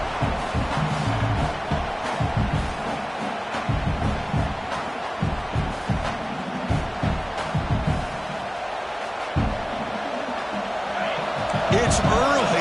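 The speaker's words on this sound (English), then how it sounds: "It's early, but this crowd is fired up. Listen to this noise here." Roaring stadium crowd noise in a College Football 26 video game, Georgia vs. Oklahoma, a steady loud wash with rhythmic surges and thumps underneath, with a commentator's voice talking over it.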